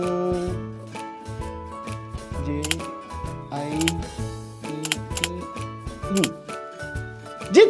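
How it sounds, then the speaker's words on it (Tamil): Keys clatter on a computer keyboard in quick, irregular bursts of sharp clicks, fairly close and loud, with soft background music and brief voice sounds in between. "நம்ம ஏதாவது ஒன்று டைப் பண்ணலாமா?"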